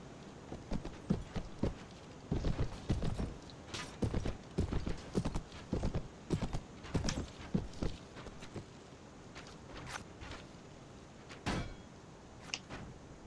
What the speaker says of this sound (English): I'm gonna get my horse there.